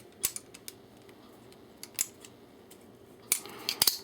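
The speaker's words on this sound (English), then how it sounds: "This is a pretty tight bushing, so I'm using a bushing wrench." A bushing wrench turns a tight barrel bushing on a 1911 pistol being reassembled, making a few sharp, close metallic clicks and snaps scattered over a quiet background.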